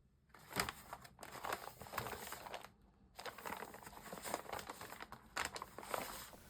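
A patterned paper gift bag is crinkled and handled up close in repeated rustling bursts, with a couple of short pauses between them and no talking.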